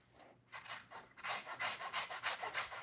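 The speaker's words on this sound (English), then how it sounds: "start zesting your lemon" A lemon is zested with a zester, giving a rapid run of close, rhythmic rasping strokes that grow steadier and louder after a couple of short opening scrapes.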